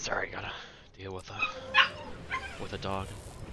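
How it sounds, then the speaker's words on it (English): A dog yips and barks a few times in short bursts near a headset microphone during a Guild Wars 2 raid session, mixed in with someone talking. "Let me know how annoying the dog gets when you hear it with my mic."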